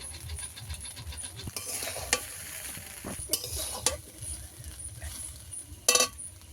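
Broken rice with winter vegetables being stirred in a sizzling pan: a steady hiss broken by scraping spatula strokes and a few sharp metallic clinks, with no voices.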